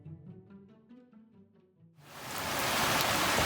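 A heavy rain squall pours down at sea, a sudden broad roar of rain that swells in and keeps building loudly after a brief stretch of tonal music.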